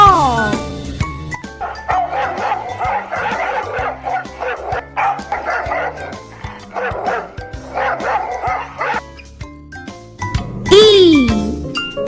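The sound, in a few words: dog barking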